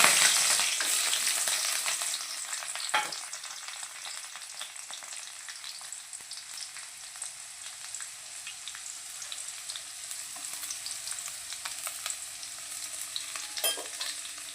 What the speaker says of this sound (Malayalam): കറിവേപ്പിൻ്റെ ഇലയും ചെറിയുള്ളിയും കൂടി നമുക്ക് മൂപ്പിക്കാം